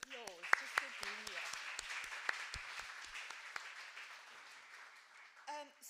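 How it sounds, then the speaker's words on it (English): Guests at a Women's Day celebration give a light, scattered round of applause, individual claps standing out over a soft wash of hands that fades out, with a voice returning at the end. "I'd like to give us all a round of applause"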